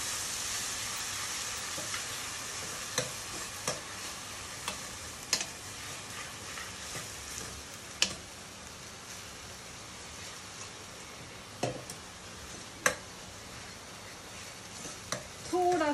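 Two chopper-crushed onions sauté in a pan for pav bhaji, giving a soft, steady sizzle punctuated by sharp clicks and scrapes of stirring scattered throughout.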